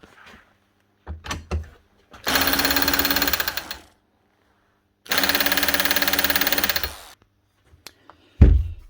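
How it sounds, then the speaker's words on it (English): A Makita HR2450 SDS rotary hammer drill with a burnt-out motor runs in two separate bursts of rapid, rattling hammering, each about one to two seconds long. Short knocks and handling clatter come before and between them, and a sharp thump follows at the end. "she's making the right noise anyway. It is attempting to hammer."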